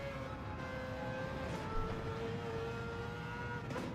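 A race car engine in Gran Turismo 7 drones steadily at low-to-mid revs for a few seconds, holding a continuous tone with slight pitch shifts and no rise into high RPM.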